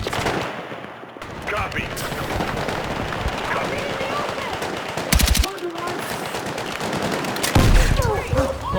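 Rapid automatic gunfire from a night raid mission in the Battlefield 6 campaign, sustained bursts rattling throughout with a few louder close shots, under shouted squad talk.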